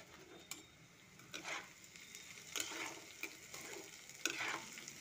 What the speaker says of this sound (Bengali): আর এখানে এটা ভাজা হচ্ছে।